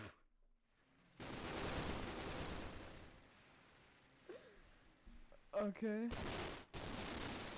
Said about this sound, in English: Shooting sound.